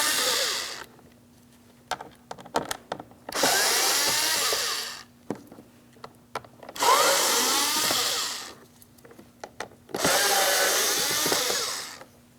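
A power drill backs screws out of the driver door panel of a 2006–2010 Hyundai Sonata. Four loud whirring bursts of a few seconds each are separated by quiet gaps with small clicks and handling sounds.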